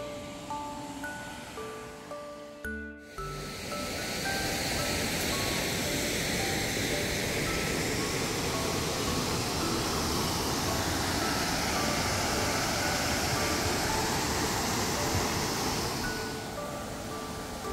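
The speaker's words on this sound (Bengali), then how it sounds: "জলের আওয়াজ কিন্তু বেশ জোরেই কানে আসছে, তার মানে ওয়াটারফলসে ভালোই জল আছে" Roaring monsoon torrent at Elephant Falls, heard as a dense, steady rush of water that swells in after a few seconds of quieter sound and holds loud and unbroken to the end.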